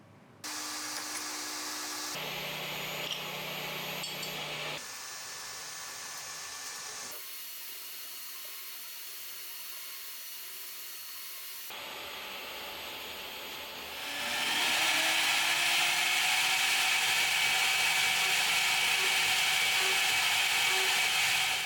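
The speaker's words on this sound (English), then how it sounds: "Next, I'm machining taller feet to allow for more vertical drop in the coolant return path." DMC2 Mini benchtop CNC mill machining metal feet, with a steady motor whine that changes pitch in stages and then turns into a louder, hissing coolant-spray rush toward the end.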